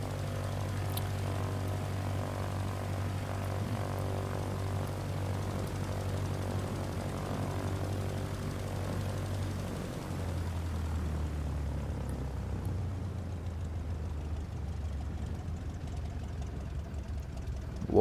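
A propeller airplane engine hums at a steady idle-like drone while flying a VR flight simulator over Panama City, the low tone holding evenly, then dropping in pitch and thinning out partway through, with no talking.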